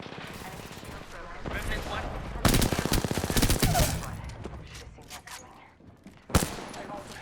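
Gunfire rattles through an esports video game match in Apex Legends, with rapid bursts of shots and sharp cracks, loud and dense in the middle and a single sharp blast near the end, while people talk over it.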